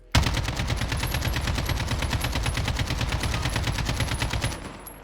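Sustained automatic AK-47 fire in the Modern Warfare video game, a loud continuous rapid burst of evenly spaced shots lasting about five seconds before cutting off, with no voices.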